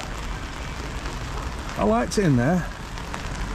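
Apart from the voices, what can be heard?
rain falling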